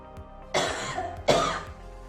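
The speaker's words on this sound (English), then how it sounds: "Then have 2 to 3 short while forceful coughs." Two sharp, forceful coughs about three-quarters of a second apart, close and loud, with quiet breathing between and no talking.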